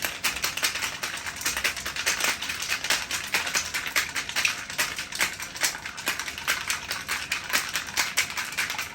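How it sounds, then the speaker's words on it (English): Ice rattles hard inside a closed cocktail shaker during vigorous shaking while a virgin margarita mocktail is mixed. The rapid clattering runs continuously for the full stretch, close and fairly loud, with no talking. "Close my shaker and shake for 10 to 15 seconds vigorously."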